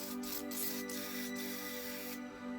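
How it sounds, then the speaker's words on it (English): WD-40 is sprayed into the inside of a bicycle gear shifter mechanism, giving a continuous close, hissing aerosol spray broken by a few brief pauses before it stops. "spray the inside of the shifting mechanism with some WD-40"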